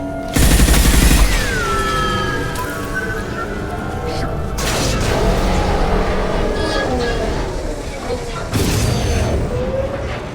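Dense, loud gunfire in Mass Effect 2 hammers at injection tubes, with repeated bursts and shots over metallic whines and ringing, and game voices faintly underneath.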